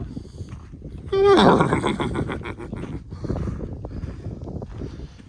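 A horse lets out one loud, close whinny that rises then trails off, followed by steady outdoor wind and rustling.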